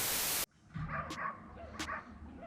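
Dogs bark in the distance outside a garage where an Opel Astra TwinTop convertible is being prepared for winter. A burst of hiss comes first, then scattered faint barks and yips that are heard alone.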